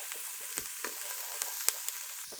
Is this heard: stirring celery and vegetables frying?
yes